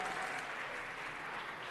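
An audience at a city council meeting applauds, a steady, fairly soft patter of many hands clapping that holds level for the whole stretch.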